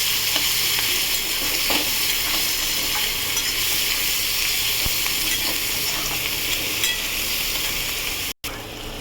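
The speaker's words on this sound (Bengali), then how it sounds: "কেটে রাখা পেঁয়াজ দিয়ে পেঁয়াজটা নাড়াচাড়া করে ভেজে নেব ভালো করে, সোনালি বাদামি করে।" Chopped onion fries in hot oil in a pan, a steady loud sizzle running the whole time with occasional scrapes and knocks of stirring, close up and without talk.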